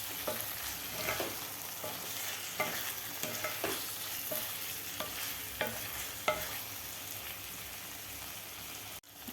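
Eggs stirred and fried in a kadhai while making egg biryani: continuous sizzling with repeated scraping spoon strokes at an irregular rhythm, close and fairly quiet, no talk.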